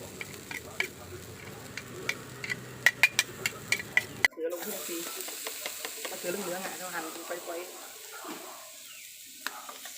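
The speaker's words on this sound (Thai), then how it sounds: "แล้วก็ผัดให้มันมันหอมก่อนนะ" Garlic, shallots and shrimp paste are stir-fried in a pan, giving a busy close sizzle punctuated by quick spatula taps against the metal, with the sound shifting sharply partway through and a voice faintly present.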